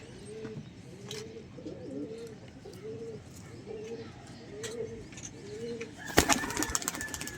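Pigeons coo in a repeating series of soft, rounded calls on a Lahore rooftop, then a sudden loud flurry of flapping wings bursts out near the end; faint voices sit in the background.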